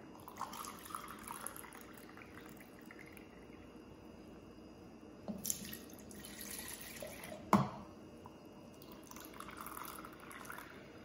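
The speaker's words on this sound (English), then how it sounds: "And then we add 2 cups of water." Water is poured into a container for making coffee jelly, a soft, steady trickle and splash at close range with a couple of brief clinks, heard alone without talking.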